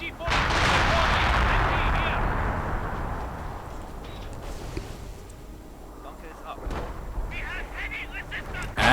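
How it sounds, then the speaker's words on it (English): A long rumbling artillery barrage pounds a base in a real-time strategy game, dense and loud at first, then fading into scattered booms, with a commentator talking over it. "our artillery barrage is going in against the base by the looks of things"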